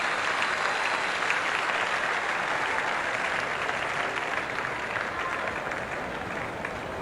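Sustained applause from a large cricket crowd greeting a boundary four hit over mid-on that brings up a hundred, dense steady clapping throughout with no break.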